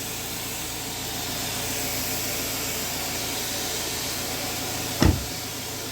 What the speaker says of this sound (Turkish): Evet camlarımız indi.